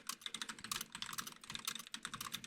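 Rapid typing on a computer keyboard, a close, busy clatter of many quick keystrokes in uneven bursts, with no voices.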